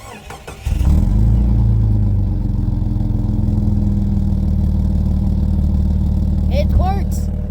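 A 2003 Jeep Cherokee, idle for three years with an engine fault, cranks briefly and then fires into a loud, steady cold-start idle, with faint chirping squeaks near the end.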